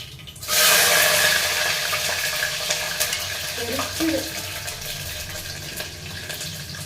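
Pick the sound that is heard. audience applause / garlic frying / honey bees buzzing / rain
garlic frying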